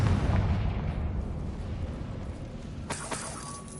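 A Confringo explosion spell in Hogwarts Legacy, a single booming blast near and loud at the start that decays into a rumbling tail, followed by a few faint crackles and a brief chime.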